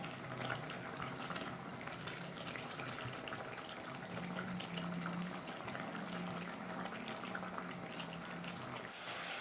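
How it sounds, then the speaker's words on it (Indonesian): Corn silk boiling in a pot of water, a steady close bubbling and simmering roar that continues evenly throughout, with no voices. "Oke, sudah 30 menit kita rebus ya."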